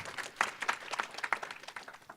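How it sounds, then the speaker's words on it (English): Applause from an audience at a conference panel on careers, a short, fairly quiet patter of clapping with a few sharper individual claps standing out. "quick round of applause"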